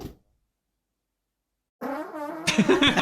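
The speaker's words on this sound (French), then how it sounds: "Et voilà, un petit prout." Silence, then a short low rumble of a fart from a person recorded during sleep, followed by a burst of laughter.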